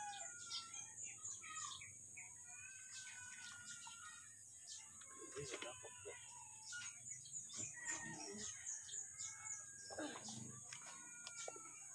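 Chickens clucking and chirping in a busy outdoor farmyard, with scattered short calls and possible distant crowing over steady background noise, while people talk intermittently nearby.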